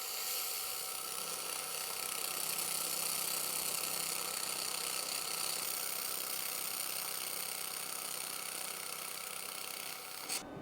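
Xlaserlab X1 Pro laser welder with dual wire feed laying a lap joint, giving a steady broadband hiss with a faint low hum that runs evenly throughout and cuts off near the end.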